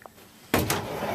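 A closet door in a 2004 Alfa Ideal 34RLIK RV slides open with a sudden close rattle and a brief second knock, following a quiet moment.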